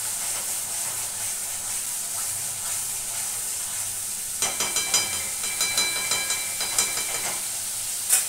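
Spice paste frying in oil in a pan and being stirred, a steady hiss and sizzle that turns busier and crackly midway, with scraping stirs and spatters close by.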